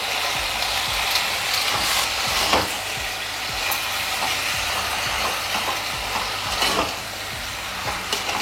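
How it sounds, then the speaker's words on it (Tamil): Small chicken cubes fry in a kadai, giving a continuous close sizzle with scraping stir strokes and occasional clatters, fairly loud, with no voices. "இப்போ சிக்கனை சேர்த்துடலாம்"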